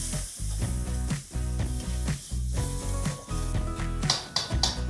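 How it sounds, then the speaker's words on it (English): Chopped tomatoes with turmeric powder sautéing in a pan: a loud, steady sizzle with periodic stirring surges, close up and alone. "now just saute this and cook till the tomatoes are mushy"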